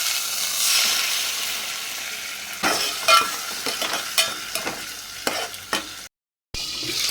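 Katla fish pieces, carrot, pumpkin and sweet potato sizzle in hot oil in a pan, with a soft continuous hiss. Several sharp scraping stirs clatter close by in irregular bursts.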